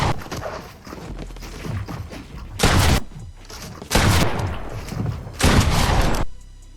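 Gunfire in Fortnite, three loud bursts of rapid shots spaced a second or so apart, mixed with footsteps and building clatter from the game.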